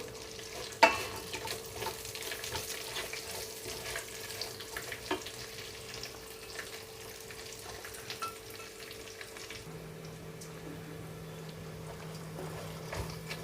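Long-sliced big onions sizzle softly in a pan for bagara rice, a faint, steady frying hiss with a few light stirring knocks.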